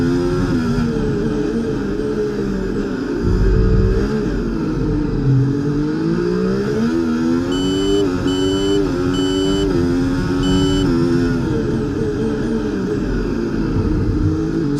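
Formula 1 race car engines roar continuously in the EA Sports F1 game at the Baku Azerbaijan Grand Prix, a loud sustained whine rising and falling with gear shifts as cars run close together, with no talk.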